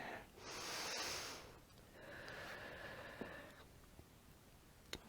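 Deep breathing in a yoga pose, a long rushing inhale followed by a slower, softer exhale, close and breathy, with a few faint clicks near the end.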